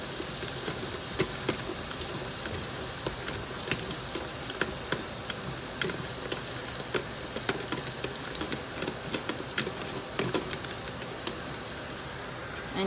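Onions sautéing in a pot on its sauté setting for saltfish cook-up rice give a steady close sizzle with scattered sharp crackles and pops, continuous throughout with no talking.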